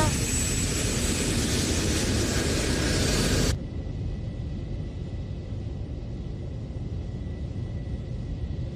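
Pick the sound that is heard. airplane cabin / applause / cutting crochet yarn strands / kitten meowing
airplane cabin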